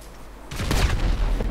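Gunfire in the video game GTA V breaks out in a dense, loud burst of rapid shots after a quiet moment, rattling on with several heavier booms.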